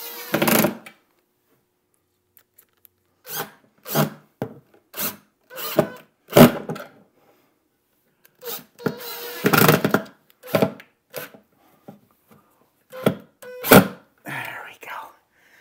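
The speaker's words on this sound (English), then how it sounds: "Let's put in some screws." Screws being driven into a wooden locker door, with short rasping, grinding bursts separated by silence, close by and fairly loud, and quiet talk in between.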